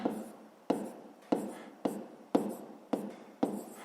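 Hand writing of a sixth-grade math solution, pen scratching on paper in short repeated strokes at a steady rhythm, close and fairly loud, with a faint low voice in the background.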